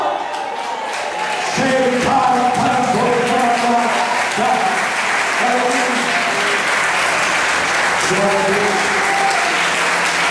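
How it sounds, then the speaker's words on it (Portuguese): Church congregation applauding during a pastor's sermon, a loud sustained roar of clapping with cheers and shouts layered on top, filling the hall for about ten seconds. "tua mão abre ela e aplauda o Senhor"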